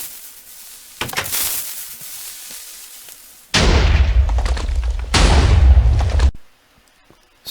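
Minecraft TNT cannon, a third-generation build, fires with a sharp blast, then two heavy, rumbling explosion bursts a second or so apart, loud and close before dropping to near silence.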